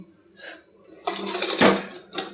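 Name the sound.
wok being placed on the stove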